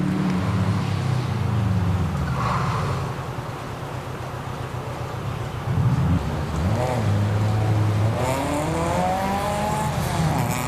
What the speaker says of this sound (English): This is a proper rally car here. Ford Escort.